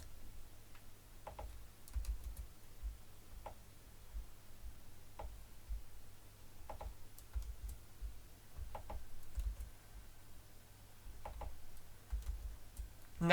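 Keys pressed on a computer keyboard for Excel formatting shortcuts, sparse isolated clicks and small clusters of taps spread out with pauses, close and faint against a quiet room.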